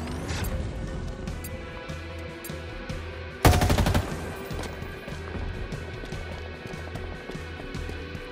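Automatic gunfire in Halo Infinite multiplayer on Xbox One, a rapid steady rattle of shots running throughout, with one sharp loud crash midway and busy game effects underneath.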